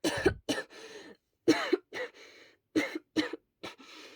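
Harsh, hard coughs come in short clusters, close and loud, with brief wheezy breaths between the bursts.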